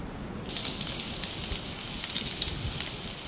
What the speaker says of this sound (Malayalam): ആദ്യം തന്നെ ഒരു സ്പൂൺ ഗാർലിക്ക് ചോപ്പ് ചെയ്തത് ഇട്ട് കൊടുക്കാം